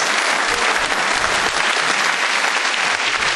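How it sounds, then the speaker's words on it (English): A large comedy-show audience claps in dense, sustained applause, loud and even throughout with no pauses. "Round of applause for us."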